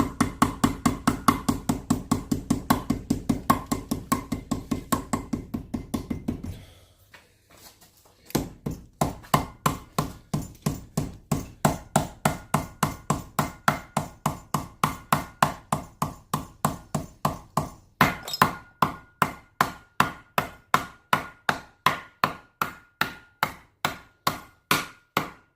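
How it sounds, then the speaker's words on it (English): A rubber hammer taps on wood in a long, steady run of evenly spaced knocks, close and fairly loud, with a brief pause partway through before the rhythmic tapping resumes. "Trusty rubber hammer"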